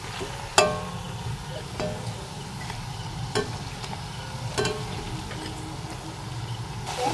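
Layered lachha nimki fry in hot oil with a steady bubbling sizzle, broken by several sharp clinks and scrapes of a utensil against the pan, close and fairly loud, no talking.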